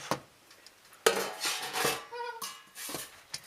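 A cooking pan is handled while making macaroni with minced meat, giving a few sharp metallic clanks and knocks with scraping and rattling between them, close by and fairly loud, with no voices.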